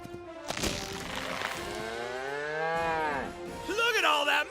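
A cow in a radio advert gives one long, drawn-out moo that rises and falls, close and loud, with a brief rustle before it and a short burst of noise at the end.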